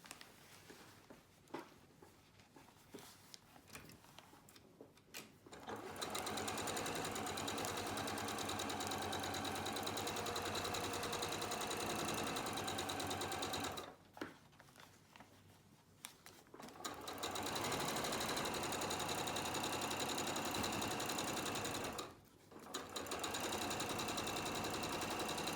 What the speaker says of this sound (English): and we're going to sew that seam.